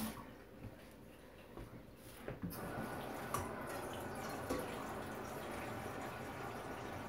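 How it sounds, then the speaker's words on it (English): Tap water runs into a sink during handwashing, starting quieter and becoming a steady, full splashing stream after a couple of seconds, close by with small drips and clinks. "okay, I'm gonna wash my hands."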